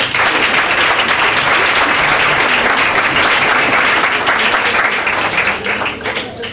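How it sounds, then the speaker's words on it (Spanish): An audience at a Día de Andalucía event in the Casa Andaluza de Leganés gives dense, sustained applause, with many hands clapping at once before the sound tapers off toward the end. "Un aplauso."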